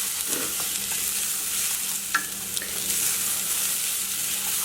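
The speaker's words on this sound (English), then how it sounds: "So you can go ahead and put those lentils in. Stir it all nicely to kind of incorporate." Brown lentils being stirred in a pot of tomato sauce, a soft continuous sizzle with a few scraping spoon strokes and light clinks, close and steady, with no talking.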